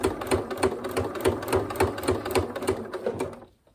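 A sewing machine runs steadily, stitching a quilted snack bag in a rapid, even rhythm of needle beats close up, then stops abruptly near the end.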